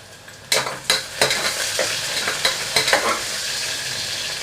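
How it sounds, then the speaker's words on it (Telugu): Spice tempering frying in a pan for drumstick tomato curry, a steady sizzle broken by about eight sharp scraping stirs of a spoon against the pan, close and loud with no talk. "ఈలోపు ఈ పోపు కూడా మగ్గిపోయింది"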